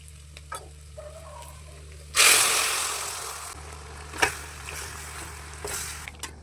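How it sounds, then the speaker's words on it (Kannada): Green chillies sizzle loudly as they hit hot oil in a pan for goat head curry, a sudden burst of frying that settles into steady crackling, with a few stirring clacks and knocks afterward. "ಎಣ್ಣೆಲೆ ಸ್ವಲ್ಪ ಚೆನ್ನಾಗಿ ಫ್ರೈ ಮಾಡ್ಕೊಳ್ಳೋಣ"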